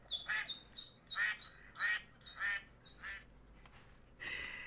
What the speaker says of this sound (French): c'est les canards